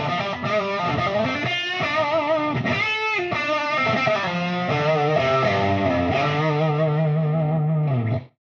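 Distorted electric guitar playing single-note lines through Celestion Alnico Gold speakers, a continuous sustained melodic run with echo and chorus-like effects, loud and steady until it cuts off near the end.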